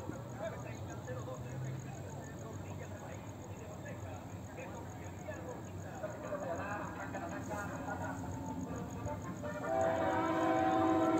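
A KCSM freight train horn sounds in the distance, growing louder toward the end, amid rumbling rail noise while people talk nearby.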